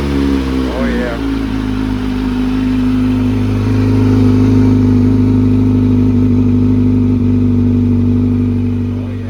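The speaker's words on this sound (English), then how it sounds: "I thought the exhaust wasn't gonna make a difference, but the sound, my goodness," Kawasaki Z900 motorcycle with an aftermarket exhaust idling and revving nearby, a loud, steady low engine drone with a brief blip early on, continuous throughout.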